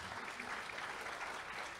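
Audience applause at a live evening talk event, a brief steady wash of clapping from a crowd, fairly faint and distant, with no voice over it.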